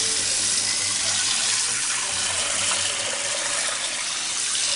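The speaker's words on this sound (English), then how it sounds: "just fill it up with some tap water" Tap water gushing into a bowl with kosher salt to make salt water, a steady, loud, close rush of filling water that runs without a break.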